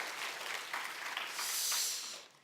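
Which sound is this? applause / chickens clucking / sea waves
applause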